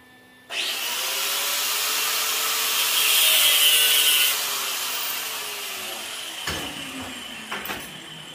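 An angle grinder works on metal, starting abruptly and holding a loud, steady high whine for several seconds before winding down, followed by a few clanks.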